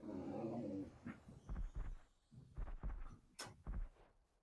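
A three-headed dog, Cerberus, growls in a video game with low, rumbling bursts repeating in an uneven rhythm, loud and close, with no talk over it.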